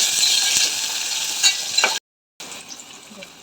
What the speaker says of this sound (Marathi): छोटा कांदा कट करून घेतला तो कांदा टाकून घेऊया छान प्रकारे फिरून घेऊया लाल होतपर्यंत